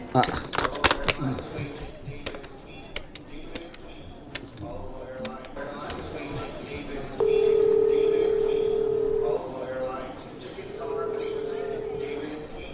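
Telephone dialing: a series of clicks and short button beeps followed by long steady tones, heard alongside people talking in a drama scene.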